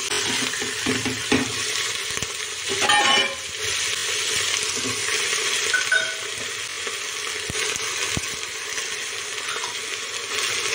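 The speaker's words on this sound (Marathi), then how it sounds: "हे सर्व मिश्रण एकजीव करून घेऊया।" Rice khichdi mixture with fried onion sizzles in a pan while being stirred, a steady crackling fry with scraping spoon strokes close by and no talking.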